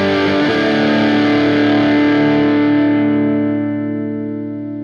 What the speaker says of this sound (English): So here is the raw distortion into the plexi.